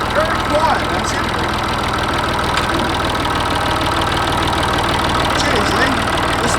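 A Perkins diesel tractor engine idles steadily nearby, a low even chugging rumble, with a voice talking over it.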